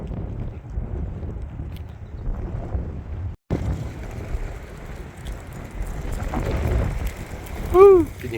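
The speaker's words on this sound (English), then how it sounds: "Can you hear that wind?" Strong gusting wind during a dust storm on a walk through a park, roaring and buffeting the microphone in heavy low rumbles, with a brief dropout and a sharp whistling tone near the end.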